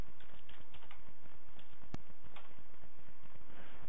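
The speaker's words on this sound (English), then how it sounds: "So let's go ahead and type in a symbol." Fingers typing a stock ticker symbol on a computer keyboard in trading software: a short run of close, light key clicks, then a single sharp tap and a few more keystrokes.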